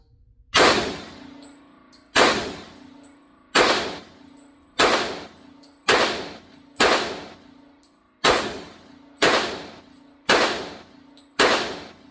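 Bullets striking a steel target at shooting practice, ten loud ringing clangs spaced about a second and a half apart, each with a short metallic decay, no voices.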